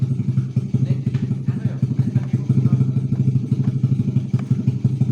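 A faulty agricultural sprayer engine that won't rev runs loud and close at a steady, fast-chattering idle with a rattling clatter, never picking up speed.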